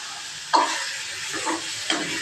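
Chopped coriander is stirred in a hot pan while a tomato chutney sautés: a steady soft sizzle with a few brief scraping stirs close by.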